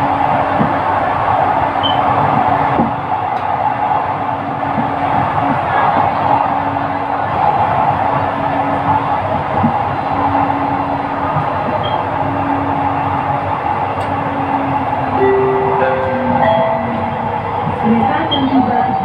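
An LRT Jabodebek light rail train in Jakarta runs along the track, a loud steady rumble and hum heard from inside the carriage, with faint tonal whines rising near the end.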